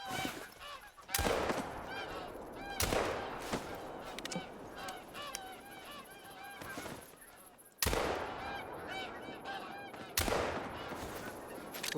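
Geese honk repeatedly in a dense flock chorus while sharp shotgun blasts ring out several times, loud and close, during a goose hunt in TheHunter: Call of the Wild.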